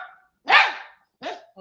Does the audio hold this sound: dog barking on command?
yes